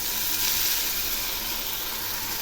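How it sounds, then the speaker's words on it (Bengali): Rinse water from a blender poured into a spice paste frying in oil for a katla fish curry with jackfruit seeds, giving a steady, close, loud hiss and sizzle that holds evenly throughout. "এবার আমি মিক্সি ধোয়া জলটা দিয়ে দিলাম"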